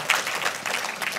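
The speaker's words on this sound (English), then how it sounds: "can we give a big round of applause" Audience applause at a university inaugural professorial lecture, a short burst of many hands clapping in a hall, moderately loud and continuous for about a second with no voices over it.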